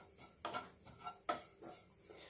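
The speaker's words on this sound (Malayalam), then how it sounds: "ഇപ്പം നമ്മുടെ ചമ്മന്തി ഈ വെളിച്ചെണ്ണയിൽ കിടന്ന് മൂത്തിട്ടുണ്ട്" Dried prawn chutney roasting in coconut oil, stirred with a utensil: a few distinct scraping, clinking stirs against the pan over a soft background, with no talk.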